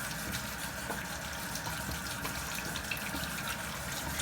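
Water runs steadily from a tap while hands are washed, giving a continuous, fairly faint gushing hiss with small splashes and no pauses.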